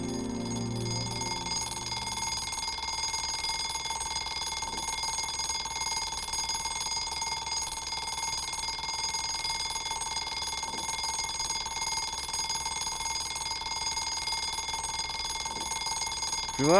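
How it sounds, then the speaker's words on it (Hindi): An alarm clock rings on and on in a bedroom in the morning, a steady shrill electronic tone lasting the whole stretch, loud and close with no voices. "अलार्म बंद कर दे यार। बजने देना।"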